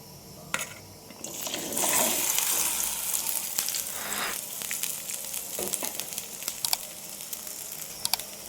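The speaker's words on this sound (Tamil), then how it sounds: "நம்ம எடுத்து வச்சுருக்கிற வெண்டைக்காயை நம்ம வடச்சட்டியில் எண்ணெய் சேர்த்திருக்கிறோம். அதில் போட்டு நல்லா வதக்கிக்கலாம்." Okra sautéing in oil in a kadai for a tamarind kuzhambu, a loud steady sizzle with scraping stirs and occasional sharp clinks of the spatula against the pan.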